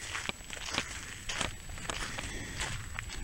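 Footsteps crunch across a brittle salt crust on the shore of the Great Salt Lake near the Spiral Jetty, a close, steady run of crackly steps with gritty texture and no talking.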